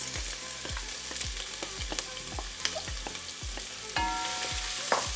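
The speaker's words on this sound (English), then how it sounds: "Pan's on medium-high heat, and now I'm gonna add my vegetables." Vegetables sizzle steadily in olive oil in a hot pot over medium-high heat, with a dense crackling hiss and repeated scraping stirs, loud and close with no talk.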